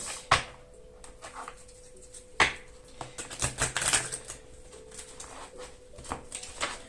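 A deck of cards is shuffled before a card reading, heard as faint scattered flicks and soft riffling patter with a few sharper snaps. No voices are present.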